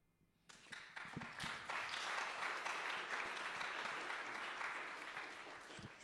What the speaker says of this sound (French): Je ne peux pas applaudir parce que j'ai le micro, mais j'applaudis vraiment